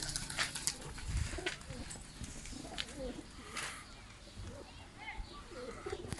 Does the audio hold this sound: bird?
yes